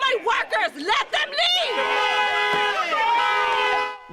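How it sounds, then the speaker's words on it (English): A crowd of protesters shouts at ICE agents near Park Avenue, several loud overlapping yells in short bursts followed by a sustained chorus of raised voices, close and energetic. "people filmed them and started shouting in their faces"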